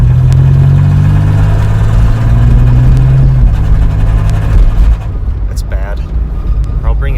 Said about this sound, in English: It's hard to hear anything over all the rattles in this truck right now